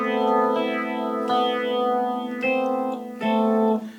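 An electric guitar riff runs through a Stewmac Lightcycle Phaser II pedal kit, sustained notes restruck in a slow rhythm with a sweeping, swirling phase modulation, loud and close with no talking.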